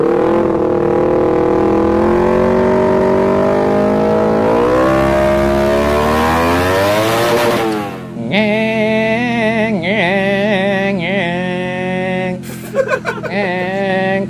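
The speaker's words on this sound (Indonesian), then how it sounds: "Ini motor Valentino Rossi yang tadi nih ya" A motorcycle engine revs in the Garena Free Fire video game, a loud, close drone rising steadily in pitch, then shifting into a wavering, warbling note that runs to the end, with a brief break near the close.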